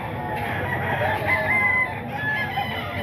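A rooster at a Filipino poultry market crows over a steady crowd and market bustle, its call loud and close across the whole stretch with no clear speech.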